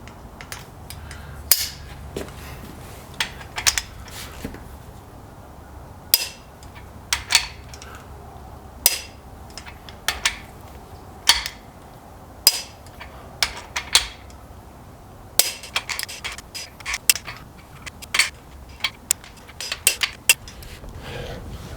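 A torque wrench tightens the main bearing bolts on a Ford 7.3 IDI turbo diesel short block to 90 foot-pounds, giving a string of sharp, close metallic clicks and ratchet snaps at irregular intervals over a low background hum.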